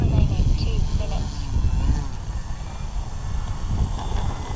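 An FMS Pitts 1400mm RC biplane taxis along a runway, its propeller engine droning steadily and fairly loud throughout, with wind rumble underneath.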